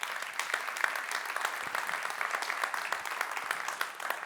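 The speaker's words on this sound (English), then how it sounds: "Give her a big round of applause, ladies and gentlemen." Applause from an audience at a centennial talks event greets a guest, a dense, continuous patter of clapping hands at a steady level, sounding from across the room without any speech on top.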